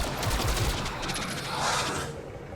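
A short, loud burst of automatic gunfire from the XCOM Chimera Squad video game, a rapid rattle of shots that tails off within a couple of seconds.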